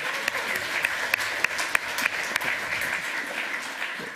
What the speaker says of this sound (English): give him a round of applause for actually doing what I told him to do and showing up 15 minutes early